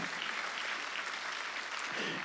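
A church congregation claps their hands during a sermon, producing a steady, fairly faint wash of applause throughout, with no clear speech over it.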